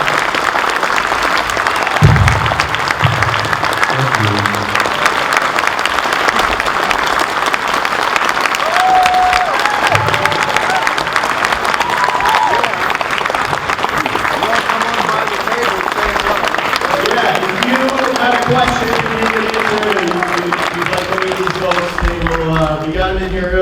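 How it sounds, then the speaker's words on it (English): Sustained applause and cheering from a convention crowd at a Twin Peaks panel during Texas Frightmare Weekend, steady and dense throughout with voices and whoops mixed in. "Another huge Texas Frightmare Weekend round of applause."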